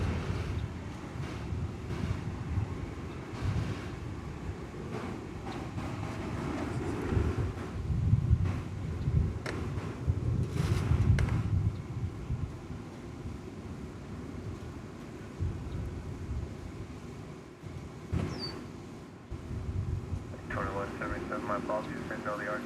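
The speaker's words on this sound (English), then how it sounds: "didn't know the RJ was going to do a short field takeoff" A regional jet makes a short-field takeoff at Dallas Fort Worth airport, heard as a broad, distant engine roar that swells and fades over a steady wind-buffeted background, with occasional talk over it.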